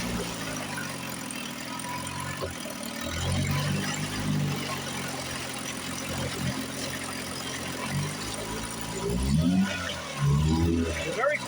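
Johnson outboard boat motor running quietly at a low steady idle, with a deeper roar rising briefly a few times; someone talks over it.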